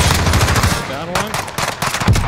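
Rapid automatic gunfire in the battle-royale shooter Modern Warfare Warzone, loud close bursts of shots in quick succession with brief gaps, over a short stretch.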